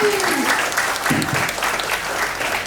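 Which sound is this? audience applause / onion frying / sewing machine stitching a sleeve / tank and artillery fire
audience applause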